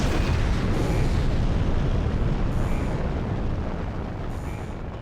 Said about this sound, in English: go for rocket launch